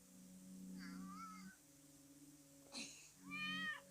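A cat meows twice, the second call louder, over a low steady hum, with a short sneeze-like burst between the calls.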